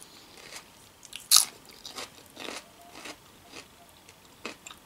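Someone eats Greek salad up close, with a sharp crisp crunch of a bite followed by softer intermittent chewing crunches, no speech.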